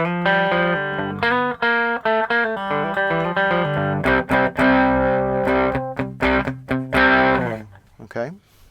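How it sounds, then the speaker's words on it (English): Loud electric guitar overdriven through a tube amp, thick distorted chords and sustained riff notes, moving into choppy strummed stabs before ringing out. "We've got some distortion, we've got some gain or overdrive."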